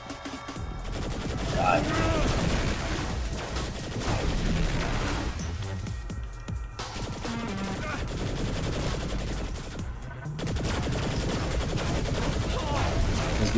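Gunshots and bursts of automatic fire in the video game Saints Row The Third, a sustained, dense clatter of shots with brief lulls. A voice speaks over it now and then.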